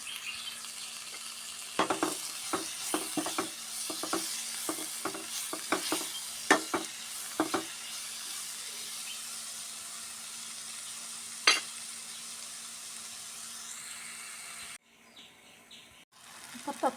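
Tomatoes sizzle in a pan, a soft steady frying hiss under a faint constant hum, with a run of sharp clicks and scrapes of stirring early on and a brief dip near the end.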